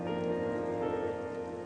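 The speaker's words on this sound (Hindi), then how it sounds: "कितनी तेज बारिश हो रही है।" Heavy rain pours steadily onto a surface nearby, a dense continuous hiss of drops with no pauses, loud and alone with no voices.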